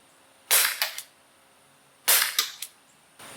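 Two pairs of sharp pops from a Gamo P-430 CO2 pellet pistol fired during an outdoor velocity test, each shot a crisp crack followed by a quick echoing report, spaced about 1.5 seconds apart with no talking.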